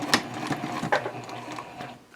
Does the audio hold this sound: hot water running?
no